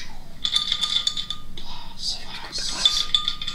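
Glass clinks and rattles as a drink is poured and shaken, a few bright chinks and a jangling shake at close range, with faint whispered voices underneath.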